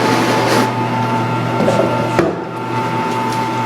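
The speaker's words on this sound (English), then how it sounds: "So we're just going to work on the coarse polish right now." A buffing wheel polishes a Fender Palomino guitar part with coarse compound, giving a loud, steady motor whir with a constant hum and brief scuffing touches as the part meets the wheel.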